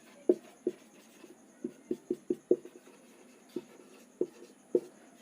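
Marker or chalk writing on a classroom board during a physics lesson on energy, a series of short, distinct taps and strokes spaced irregularly, fairly quiet and close, with no talking.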